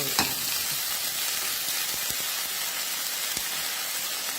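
Lotus stems are stir-fried in a hot pan, giving a loud continuous sizzling hiss close up, with a few scraping stir knocks and no speech.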